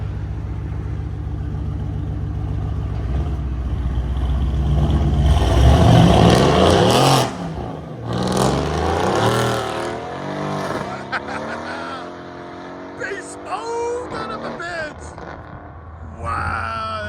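A Mercedes-AMG C-Class, either the C 63 4.0L V8 or the C 43 3.0L V6, launches with a loud rising engine roar that builds and then fades. Excited voices talk over and after it.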